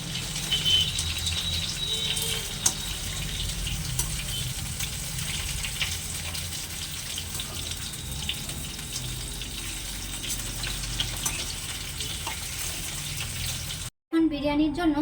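Potato pieces sizzle in hot oil while being turned over for chicken biryani, a continuous close crackle with a short break near the end.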